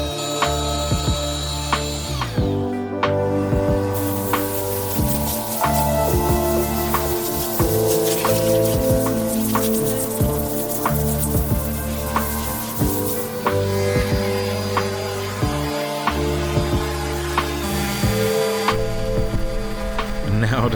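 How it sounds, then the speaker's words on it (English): A belt sander runs continuously over a wooden table being refinished, its motor giving a steady loud mechanical drone with repeated tonal hum and brief dips as the tool is lifted and set back down. "I'm just gonna hit this a little with the belt sander"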